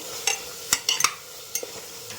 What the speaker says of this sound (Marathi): आपण त्यामध्ये आता शेंगदाणे टाकून घेऊया शेंगदाणे चांगले परतून घ्यायचे आहे